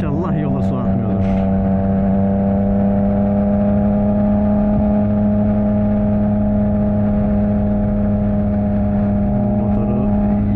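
A freshly washed Yamaha MT-09 motorcycle holds a steady, loud engine drone while riding, with a strong constant hum and an engine note that barely changes over the whole stretch.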